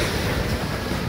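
Sea waves at a beach in Carles, Iloilo, a dense, steady wash of surf mixed with strong wind buffeting the microphone, loud and close throughout a brief moment.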